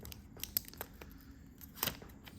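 Paper packaging torn while unboxing an Apple Watch SE 2022 in Midnight, giving soft, close crinkles and a few sharp rips scattered across a quiet background.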